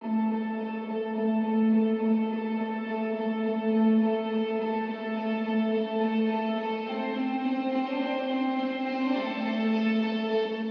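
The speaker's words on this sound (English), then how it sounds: "we have a guitar that comes in and it sounds like this" A sustained electric guitar part from a track, one long held chord with echo and reverb washing around it, loud and steady, shifting slightly in tone toward the end.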